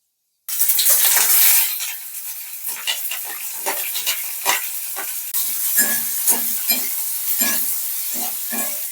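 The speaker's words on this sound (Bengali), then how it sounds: "তো চলো ডালটা আমি সাতলে নিচ্ছি" Mustard oil in a kadai hisses loudly as panch phoron, dried red chilli and chopped onion go in for a masoor dal tempering, then settles into a steady sizzle with repeated close scraping stirs.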